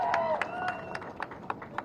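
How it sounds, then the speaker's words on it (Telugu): Audience at a ceremony honouring newly elected councillors clapping in a loose, uneven patter of separate claps with a voice over it, brief and moderately close. "గట్టిగా చప్పట్లు కొట్టాలి."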